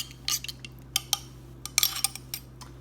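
A teaspoon stirs parsley into water, clinking sharply against the container in quick irregular bursts over a faint low hum.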